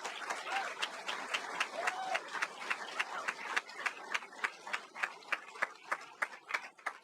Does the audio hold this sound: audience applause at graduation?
yes